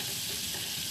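Vegetables fry in a pan for a fisherman-style paarai fish kuzhambu, a brief steady hiss of sizzling oil heard up close with no voices.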